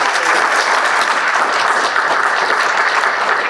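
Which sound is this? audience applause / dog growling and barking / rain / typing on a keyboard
audience applause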